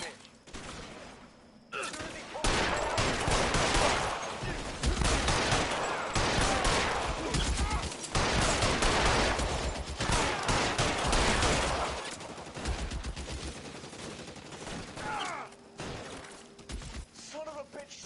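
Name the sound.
gunfire in L.A. Noire video game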